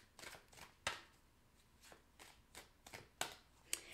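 Tarot cards shuffled and flipped during a reading, a few soft riffling sweeps broken by sharp card snaps, close and quiet with no talk.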